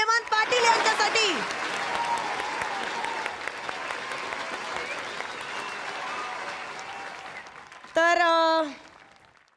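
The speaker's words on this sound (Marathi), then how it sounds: "जोरदार टाळ्या हेमंत पाटील यांच्यासाठी" Studio audience applause at a televised comedy awards show, loud sustained clapping mixed with cheers and a host's voice over it, ending in a short burst of music.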